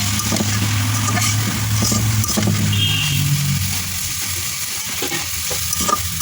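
Ivy gourd (telakucha) leaves fry in a pan with a steady, loud sizzle and crackle, stirred now and then with faint scraping clinks, continuous throughout.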